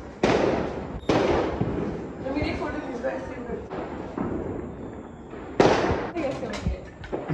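Diwali firecrackers go off in several loud, sharp bursts close by, with the crackle fading between blasts as people talk over them.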